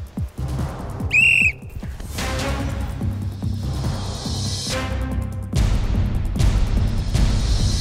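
A single sharp whistle blast cuts in during a noisy game set-up and is followed by loud rumbling, thumping and crowd-like commotion filling the rest.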